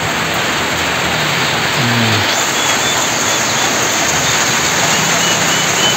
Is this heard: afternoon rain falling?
yes